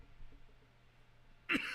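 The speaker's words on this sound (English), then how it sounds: "that I'm coughing" A single sharp cough bursts out near the end, loud and close, after a stretch of quiet low hum.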